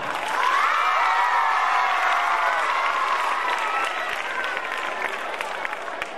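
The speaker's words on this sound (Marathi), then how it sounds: "टाळ्यांचा आवाज कुठे थांबला?" A school crowd at an annual gathering claps loudly and continuously, with scattered cheers and children's shouts mixed in, and the applause gradually thins toward the end.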